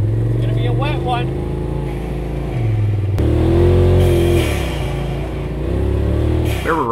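Side-by-side UTVs, including a Polaris RZR XP Turbo and a Can-Am Maverick Sport XMR, rev their engines at the start of a wet, muddy trail ride, with loud close engine drone rising and falling in pitch under a voice.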